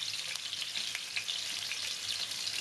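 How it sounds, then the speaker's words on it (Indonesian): Shallots and onion fry in a small amount of oil spread across a wide pan, a steady, close crackling sizzle with occasional stirring scrapes and no voices. "pertama-tama kita menggoreng bawang merah dan juga bawang bombay"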